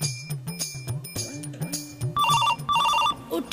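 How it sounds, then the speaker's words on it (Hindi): A telephone rings late at night with repeated electronic trilling bursts, loud and close, following low voices and sung melody before the ringing takes over. "इतना रात में कौन फोन कर रहा है?"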